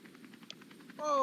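A helicopter flying near a tornado gives a rapid, steady thump of rotor blades at moderate distance, then a rising rush of wind-like noise swells near the end.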